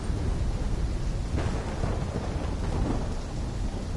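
A heavy thunderstorm with driving rain in Call of Duty: Black Ops 3, a constant loud hiss of rainfall broken by a deep rolling thunder rumble in the middle, with no voices.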